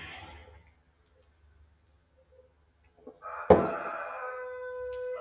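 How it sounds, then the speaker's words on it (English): A rooster crows loudly and close by, a single sustained call breaking in after a few seconds of near quiet and carrying to the end, with faint background noise and no talking. "You guys can hear the chickens?"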